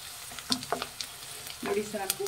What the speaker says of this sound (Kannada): ಮೀಡಿಯಮ್ ಫ್ಲೇಮಲ್ಲಿ ಇಟ್ಟು ನಾವು ಈರುಳ್ಳಿನ ಫ್ರೈ ಮಾಡಬೇಕಾಗತ್ತೆ